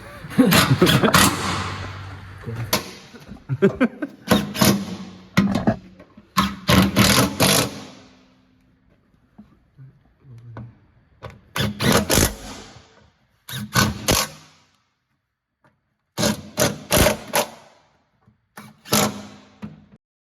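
An impact wrench rattles bolts tight on a 1997 MG F roadster, firing in repeated short loud bursts with pauses between them, close by under a workshop.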